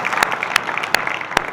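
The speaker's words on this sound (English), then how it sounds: "You're clapping by yourself." A lone person claps four distinct, widely spaced times in a room at a city politics talk, crisp and close over a faint background murmur.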